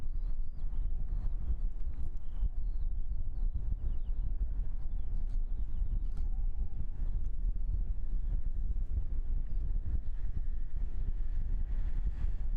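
Strong headwind buffeting a microphone outdoors at Christchurch Airport, a constant low, rumbling roar that stays dense and steady throughout with no clear voices.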